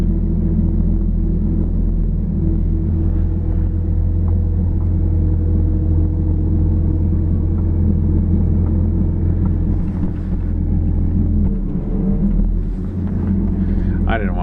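A logging truck hauling a load of spruce rumbles steadily out on a loud, continuous low engine drone with wind buffeting, as people talk over it nearby.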